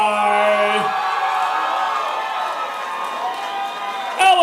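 A hometown-heavy crowd at a Muay Thai fight night cheers and roars steadily in a loud arena, with whoops and an announcer's voice layered over the continuous crowd noise.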